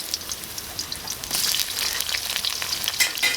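Ginger and garlic stir-frying in a hot wok while cooking braised eel, a loud, close crackling sizzle with scraping stirs, growing busier toward the end, no talking.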